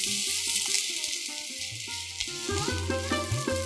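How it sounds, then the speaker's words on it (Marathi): Coriander being sautéed into a vegetable mixture in a hot pan: a steady, bright sizzle with stirring scrapes, while music with a rhythmic beat plays underneath. "आता ह्याच्यामध्ये आपण ही कोथिंबीर जी घेतली होती ती थोडी मिक्स करून घेऊया आणि तीही छान परतूया"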